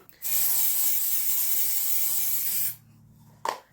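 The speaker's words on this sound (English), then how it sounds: "I'm going to spray it with some fixative." A steady aerosol spray of fixative from a can hisses for about two and a half seconds, close and fairly loud, then stops, followed by a brief short burst near the end.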